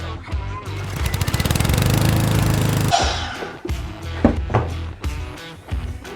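A power saw cuts through a wood piece in a woodworking shop, a loud, steady buzzing cut lasting about three seconds before the blade stops, followed by several sharp knocks and clatters of wood being handled nearby.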